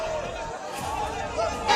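A crowd gathered in front of a political convoy during an election, heard as a dense babble of many voices at moderate distance, with a voice speaking over it.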